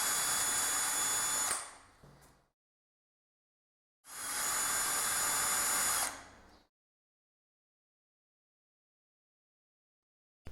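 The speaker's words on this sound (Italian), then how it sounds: "Perforiamo il controtelaio mantenendo la porta chiusa per evitare il contatto con la punta del trapano" A power drill bores into a sliding door frame in two bursts of about two seconds each, loud, high-pitched and close, with silence between and after.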